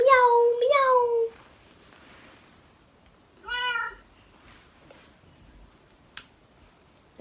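Cat meows played back through an Amazon Echo smart speaker: two clear meows close together at the start, a third shorter meow a couple of seconds later, then a faint tick near the end.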